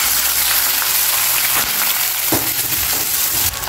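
Green chillies, finely chopped onions and curry leaves with a pinch of asafoetida sizzle loudly in hot oil, a dense, continuous crackling hiss close up with a few sharper pops and stirring scrapes.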